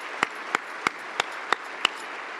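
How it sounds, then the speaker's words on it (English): A few isolated hand claps ring out, about six sharp, evenly spaced single claps over a quiet background, at a military officer candidate school graduation ceremony honoring families. "How about a round of applause for all our families here today?"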